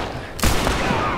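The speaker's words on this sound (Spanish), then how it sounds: "¡Hostia, que disparo!" A burst of gunfire in The Last of Us Remastered cracks out suddenly after a brief quiet lead-in, loud and close, followed by a lingering rumbling tail.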